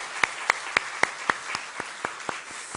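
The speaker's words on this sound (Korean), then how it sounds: "우리 큰 박수로 한번 주님께 영광을 올려드리도록 하겠습니다" A church congregation at a Christmas Day service claps together in a slow, steady beat, about eleven sharp claps spaced evenly and fairly faint, growing softer toward the end.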